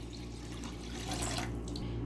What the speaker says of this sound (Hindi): हम एक पैन लेंगे और इसमें पानी डालेंगे